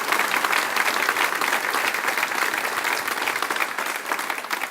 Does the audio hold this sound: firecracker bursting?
no